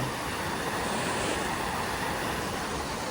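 Flood water rushes through a village in a steady, dense roar that fills the whole stretch without a break, loud and unvarying with no voices.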